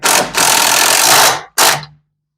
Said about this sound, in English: I think I can rattle those in with an impact.